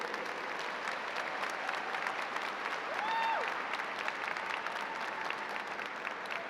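A convocation audience applauds specialist degree recipients at a school of education ceremony with sustained, moderately distant clapping that swells slightly midway, and a brief tonal squeak rises and falls over it.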